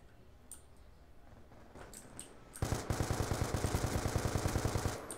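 Scar-H rifle fire in Black Ops 2 on the Turbine map in a Kill Confirmed match on PC: after quiet game ambience with faint clicks, a loud rapid burst of evenly spaced shots runs steadily for about two and a half seconds.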